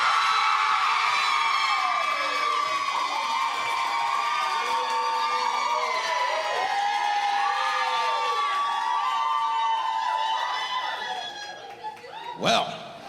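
A live burlesque murder-mystery audience in St. Louis cheers and shouts loudly for a team during a vote, with whoops, laughter and crowd chatter sustained throughout before fading near the end.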